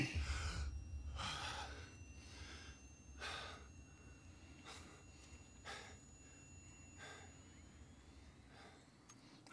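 A game character in Just Cause 4 gasps for breath, about eight sharp ragged inhales at a steady rhythm, loud and close over a low rumbling game ambience, with no talk.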